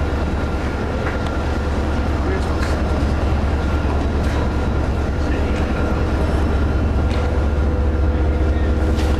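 Train rumbling at Back Bay Station in Boston, a loud continuous low roar with metallic rattles and brief squeals throughout, steady from start to finish.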